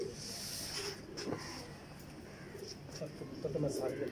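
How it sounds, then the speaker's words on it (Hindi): Pigeons kept in a Lahore loft give low, soft cooing calls at intervals, faint and close, under a quiet outdoor background. "ये उनके अली वाले कबूतर हैं।"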